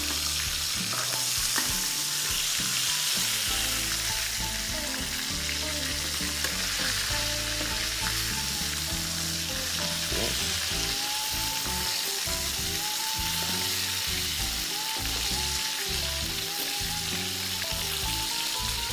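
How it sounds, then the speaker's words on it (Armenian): Garlic frying in oil over high heat on a gas stove, a loud, steady sizzle that continues unbroken throughout with occasional stirring scrapes and no voices. "սխտորները արդեն մի քիչ շատ են տապակվել"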